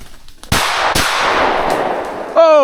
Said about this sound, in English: I bricked an easy shot on a grouse